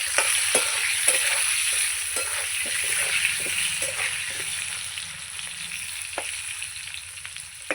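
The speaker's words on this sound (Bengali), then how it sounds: "একটু লবণ দিয়ে আলুটাকে ভেজে নেবো ভালো করে" Potatoes frying in a pan with turmeric and salt sizzle steadily and close, broken by intermittent scrapes and taps as they are stirred.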